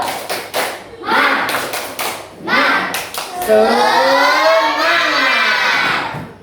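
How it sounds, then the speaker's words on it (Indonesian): Classroom of students performing a rhythmic spirit clap at the end of an Islamic religious education lesson: several sharp bursts of group clapping in a patterned rhythm, followed by children shouting a chant together. "mari kita tepuk semangat"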